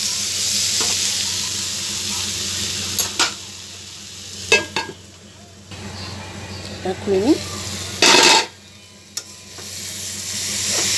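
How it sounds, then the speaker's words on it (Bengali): Pumpkin, potato and bitter gourd fry in a pan with a constant soft sizzle, broken by sharp metal clatters as the plate lid comes off and utensils stir, with a short spoken phrase in between. "এটা আমরা ভাজা ভাজা করে নেব"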